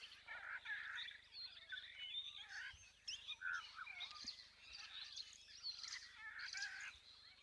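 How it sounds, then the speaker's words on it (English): Firefinches give thin, high chirping calls in quick, overlapping bursts, fairly faint against quiet outdoor background at an African waterhole. "I hear some firefinches again."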